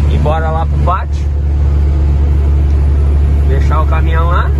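Truck engine idling in a yard with a steady, loud low rumble throughout, while someone speaks briefly near the start and end.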